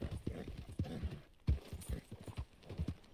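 Horse hooves clip-clop in a steady walking rhythm in the video game Red Dead Redemption 2, close and clear, with some low background noise and no talking.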